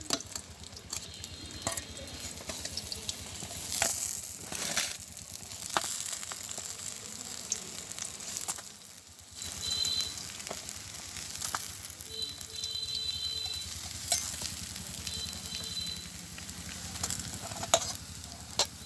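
Fish frying in a pan during village cooking, a continuous crackling sizzle with occasional scraping and stirring, steady and fairly close, with no speech.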